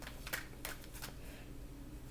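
Tarot cards being shuffled by hand, a soft papery riffling with a few sharper flicks near the start, close and quiet over a low steady room hum.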